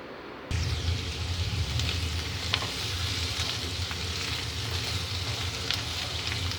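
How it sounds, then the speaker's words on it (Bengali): Potatoes fry in hot oil in a home kitchen, a steady, close sizzle with crackling pops and a low bubbling bed that jumps in after a brief quieter start and continues evenly. "একটু লাল লাল করে ভাজবো,"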